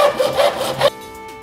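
Several quick back-and-forth saw strokes rasp loudly up close while cutting a custom lightsaber prop, then stop abruptly, leaving a faint hum.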